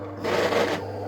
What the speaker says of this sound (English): you can hear the motor, which is really old